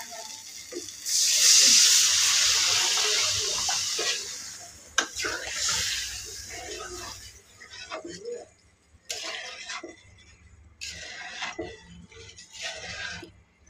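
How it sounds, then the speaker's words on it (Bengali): Water is poured into a pan of spiced potato curry, giving a loud rushing hiss and sizzle that fades into quieter bubbling and stirring noises. "আলুটি কষাই নিচ্ছি, এখন জলটা দিয়ে নিতেছি।"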